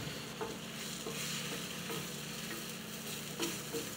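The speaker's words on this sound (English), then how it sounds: "Do you hear that sizzle? Hear it?" Eggs fry in a pan on medium heat for a quick breakfast, giving a faint, steady sizzle with light crackling throughout and no talking.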